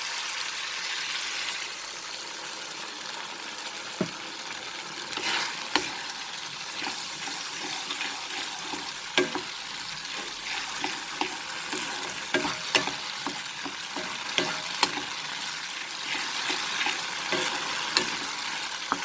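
Cauliflower coated in corn flour fries and gets stirred in a pan for a chilli gobi dish: a steady bed of crackling sizzle with scattered scraping clicks from the stirring, close and moderate, no talking.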